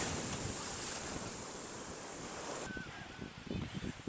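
Sea waves washing onto a shore and drawing back in a strong backwash, a steady broadband surf roar with wind noise on the microphone, dipping slightly then surging again near the end.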